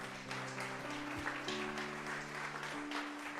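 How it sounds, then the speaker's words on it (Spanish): A church congregation at a Spanish-language afternoon worship service claps for the Lord, the soft applause quiet and steady over sustained keyboard or organ tones. "Denle un fuerte aplauso al Señor en esta tarde."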